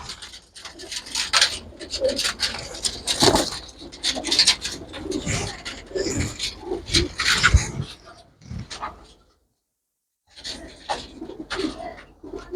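Pigeons, including a red one, offered for sale at a market cage give soft cooing and rustling amid steady crowd bustle and close handling noise. The sound drops to a brief silence near the end, then the bustle resumes.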